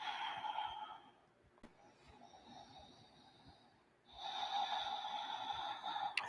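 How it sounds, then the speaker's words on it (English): Audible yoga breathing through the nose, with a long, airy exhale, a quieter pause, and then a strong rasping inhale, close and alone. "Notice that breath moving in and out of the chest."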